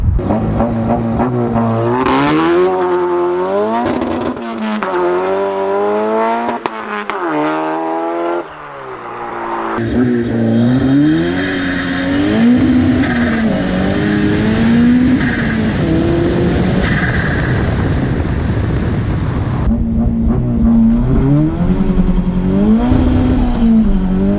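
A 400 hp Mazda Miata launches hard for a 0-60 run, engine revving up in quick repeated climbs through the gears, loud and close from inside, with a burst of wind-like roar mid-run and steady drone at the end.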